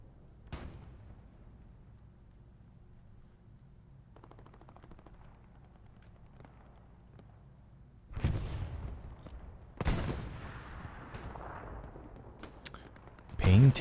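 Rockets and gunfire in the WWII shooter Hell Let Loose, with a few heavy bursts and blasts arriving late over a quiet, faint background and light crackling, sounding mid-distance.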